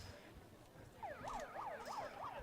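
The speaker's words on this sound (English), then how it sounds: "just heard the siren, so it looks like they probably got the ambulance around here" An ambulance siren at a women's tackle football game, wailing up and down in a repeating rise-and-fall pattern, moderately distant over steady crowd and field ambience, starting about a second in.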